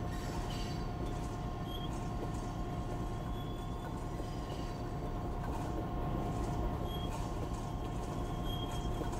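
A mile-and-a-half-long coal train rumbles steadily along the line, a continuous low roar of wheels and cars with faint intermittent squeals and clicks, heard at a moderate distance.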